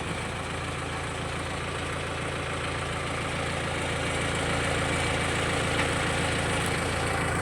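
A Kubota MU5702 farm tractor engine idles steadily with a low, throbbing rumble and faint knocking, unchanged throughout with no voices.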